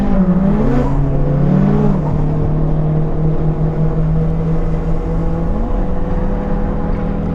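A Toyota JZX90 being drifted, its engine droning loud and steady throughout, pitch swooping and wavering as the throttle is worked, with no talk over it.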